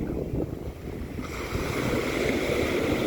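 Sea waves at the shore wash in a steady, continuous broadband roar mixed with wind buffeting the microphone, with no voices.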